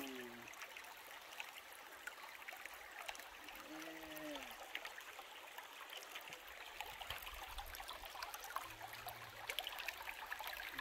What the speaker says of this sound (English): we're at the creek